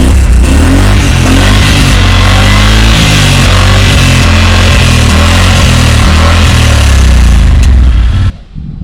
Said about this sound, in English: So the sound of it with the factory muffler.